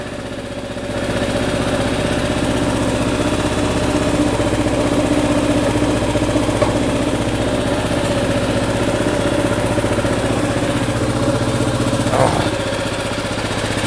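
A Kawasaki KLR 650 motorcycle engine, just started after a needle kit install, idles steadily and loudly up close with an even, unbroken rumble.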